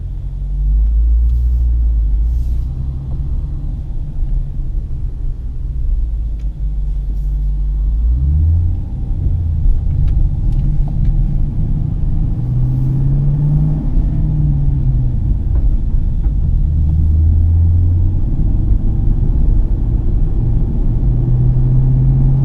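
A manual-transmission car pulls away onto the road, its engine a low steady rumble close by, with the pitch climbing and dropping several times as it works up through the gears.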